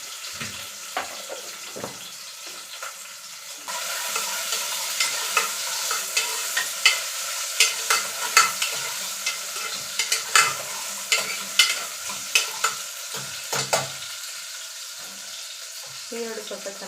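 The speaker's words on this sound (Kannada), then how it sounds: "ಸ್ವಲ್ಪ ಈರುಳ್ಳಿ, ಒಂದು ಮೀಡಿಯಮ್ ಸೈಜ್ ಇರುವಂಥದ್ದು ಈರುಳ್ಳಿ ಹಾಕ್ಕೊಂಡಿದ್ದೀನಿ." A medium onion with curry leaves fries in a pan, a soft steady sizzle rising partway through, with repeated scraping taps from a spoon stirring close by.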